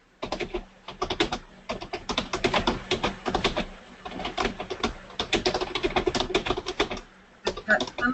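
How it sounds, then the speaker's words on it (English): Rapid, uneven keyboard typing sounds close and clear, with continuous clattering keystrokes in bursts and a few short pauses, picked up on an open line during a remote meeting; no one speaks over it. "I've got somebody doing a lot of typing"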